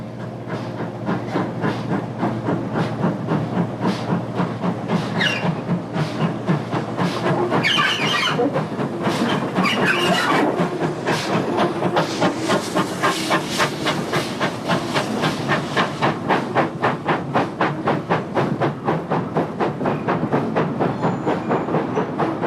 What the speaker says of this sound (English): The disguised tank is hauling the wagons from the yard adjacent to the BR station.